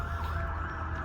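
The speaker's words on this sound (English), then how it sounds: "Sorry about the sirens in the background." A wailing siren drones steadily in the distance over a low rumble of traffic, faint and continuous through the short stretch.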